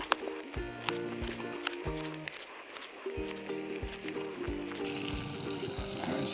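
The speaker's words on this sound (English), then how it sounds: "while that bacon's cooking" Bacon sizzles steadily in a Dutch oven over a campfire, a continuous close frying hiss with intermittent knocks and clinks of cookware, growing brighter and louder toward the end.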